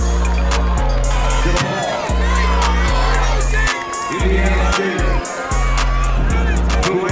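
A big crowd roars at a college relay race at the Drake Relays in Des Moines, Iowa, with steady loud cheering and babble. A deep rhythmic thumping and nearby voices cut in and out over it.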